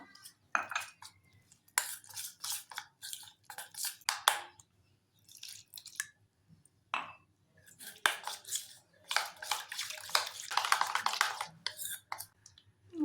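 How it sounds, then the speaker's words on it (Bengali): A thin batter for paneer fingers is mixed with water in a bowl, with close, uneven bursts of wet clinking and scraping as a utensil stirs against the container, pausing briefly between strokes. "এখন জল দিয়ে একটা পাতলা ব্যাটার তৈরি করে নেব।"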